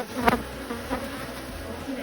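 Irritated honeybees buzz constantly around a hive during queen release in an agitated drone, with a few louder passes close by. No voices.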